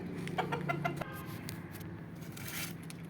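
Black rooster and hen clucking softly near a person, with a few short bursts in the first second over steady background hum.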